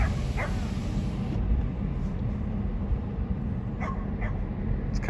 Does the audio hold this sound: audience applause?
no